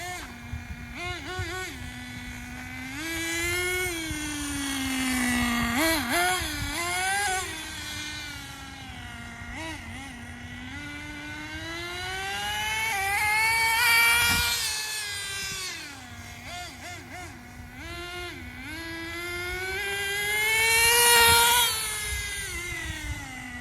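A HotBodies Tornado nitro RC car engine screams steadily, its pitch climbing and dropping through early gear shifts, with a few brief dips between runs; loud and close throughout.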